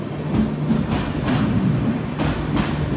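Train crossing on the Konkan Railway near a tunnel-side station during the monsoon: a loud, steady rumble of passing carriages with faint rhythmic clatter, close and continuous, no speech.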